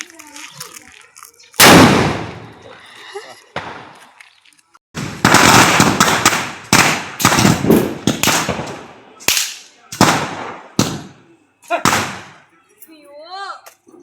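Diwali firecrackers burst in a rapid series of sharp, loud bangs, several close together, with people shouting and talking between the blasts.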